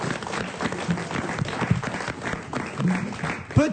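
Studio audience applause for actor Pierre Santini on a French radio show, a busy patter of clapping with occasional brief voices and tones mixed in, at moderate level.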